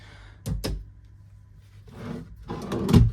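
Small hotel room drawers in an executive suite slide open and shut, giving a couple of close wooden thunks and scraping slides spread over a few seconds in a quiet room.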